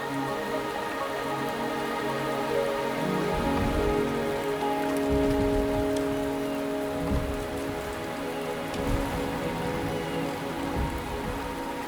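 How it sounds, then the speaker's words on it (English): Steady rain pours in the video game Wuthering Waves, a dense, even hiss of drops striking surfaces that continues without a break, with soft low rumbles swelling underneath now and then. "The rain is subsiding, and the sky will soon clear."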